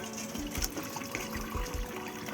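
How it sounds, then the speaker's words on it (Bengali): Water drained off boiled taro greens, a close, quiet trickling pour with small splashes lasting a couple of seconds, no talk. "আর এই যে জলটা ফেলে নিল সিদ্ধ করে।"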